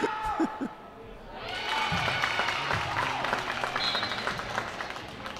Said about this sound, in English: There's somebody clapping